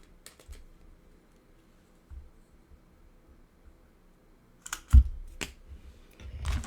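A Crop-A-Dile eyelet tool punching a hole at the top of a handmade Christmas gift, heard as a couple of sharp clicks and a thunk near the end, after quiet handling sounds.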